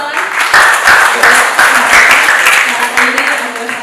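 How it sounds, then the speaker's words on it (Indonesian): Audience applause at the Olahrasa 2023 launch event, a dense burst of clapping from a crowd, loud and sustained, with voices mixed in under it. "Tepuk tangan"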